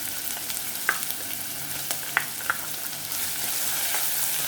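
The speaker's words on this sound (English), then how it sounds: "so very little oil, maybe a tablespoon or so. Add the onion. Then the chili." Chopped onion and chili sizzle in about a tablespoon of oil for a tinfish samosa filling, a steady close fry with a few sharp stirring clicks and scrapes from the pan.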